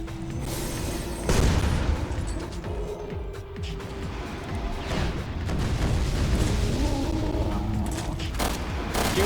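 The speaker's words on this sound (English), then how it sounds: "If you want to see some explosions, I'll give you some fucking explosions." Explosions and gunfire in the video game Rev2 Raid Mode, a series of booming blasts and rumbling bursts layered over one another, loud and continuous, with no speech.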